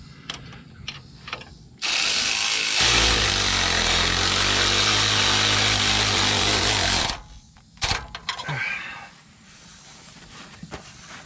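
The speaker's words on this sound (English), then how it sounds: "Start tightening this here down." A power ratchet drives a 5/8 socket to tighten a steering stabilizer bolt on a Dodge Ram, buzzing loudly and steadily for about five seconds, framed by clinks and handling noises of tools.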